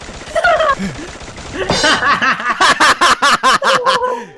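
Rapid bursts of gunfire from the battle game Free Fire, fired from inside a shipping container, a fast even string of sharp loud shots after a short stretch of talk.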